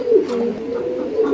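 Yellow Bombay pigeons coo in a steady, close murmur, the low rolling calls continuing through the whole stretch with slight swells near the start and end.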